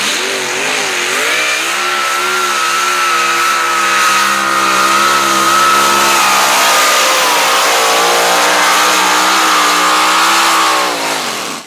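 Loud, sustained roar of a pulling truck's engine at a two-wheel-drive truck pull in Nordheim, revving up and holding a high, strained pitch for several seconds before dropping off at the end.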